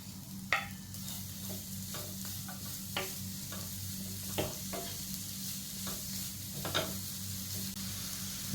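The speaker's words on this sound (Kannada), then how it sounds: "ಈ ಕಾಯಿ ತುರಿನ 1-2 ನಿಮಿಷ ಹುರ್ಕೊಂಡ್ಮೇಲೆ ಇದಕ್ಕೆ ನಾನು ಬೆಲ್ಲ ಸೇರಿಸ್ಕೊಳ್ತಾ ಇದ್ದೀನಿ" A spoon scrapes and stirs grated coconut with jaggery roasting in a pan, irregular scraping strokes every second or so over a soft, steady sizzle, close and without talk.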